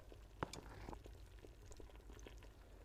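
Tonkatsu ramen broth bubbling in a pot after hours of simmering, a faint, steady low burble with scattered soft pops and gurgles, no talk.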